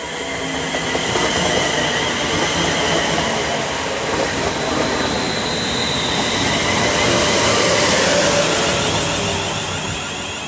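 A train rushes past on the West Coast Main Line at Marston Green, a continuous loud roar of wheels and rail noise close by, steady throughout with no voices.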